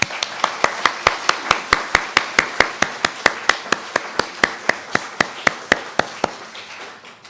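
A congregation claps in unison for its children, youth and artist: a steady, evenly spaced run of sharp claps, close and distinct, lasting several seconds before fading out.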